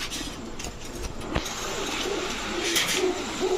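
Rampuri pigeons in a pigeon seller's lot coo in low, soft murmurs amid a steady outdoor hum, with a few brighter chirps and a car passing in the background.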